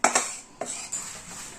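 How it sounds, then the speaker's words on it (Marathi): Metal spoon clinking and scraping in a pan while hot jaggery is mixed into roasted coconut filling for modak, a few sharp close clatters followed by softer stirring scrapes. "चमच्यानीच असं आपल्याला खालीवर करून घ्यायचं आहे, छान कालवून घ्यायचं आहे"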